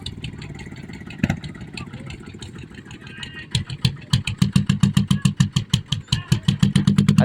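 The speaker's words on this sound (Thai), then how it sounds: "คันเขียวนี่ติดเครื่องแล้ว" A green motorcycle engine sputters and catches after a few cranking attempts, then settles into a rapid, pulsing idle with a steady beat, close and fairly loud.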